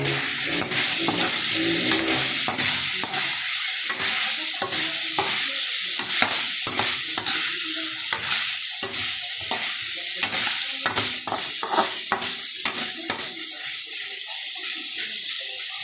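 Semi-chopsuey sizzles steadily in a hot pan while a utensil stirs it, giving a continuous loud frying hiss broken by frequent sharp scraping clicks, with no talking.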